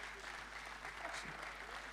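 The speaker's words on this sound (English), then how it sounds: "I think it's fitting we give her another round of applause." Steady round of applause from the audience at an ICT expo opening ceremony in Nigeria, a dense, even wash of clapping throughout with faint voices beneath.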